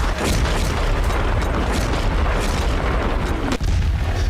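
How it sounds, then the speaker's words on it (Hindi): Gunfire fired into the air at the LAC, a continuous loud rumbling roar with dense low booms and bursts, with a sharp crack near the end. "अभी हवाई फायर किए गए हैं"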